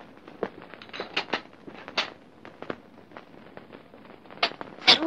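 Firework rockets go off in an old Egyptian film scene as a scattered series of sharp pops and crackles at uneven intervals, some close and loud, others fainter.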